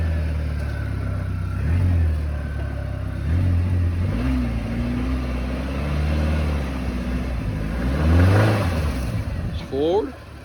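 Car engine at a towing auction, sounding as if it is running out of gas, with a low, uneven rumble and brief revs under people talking outdoors.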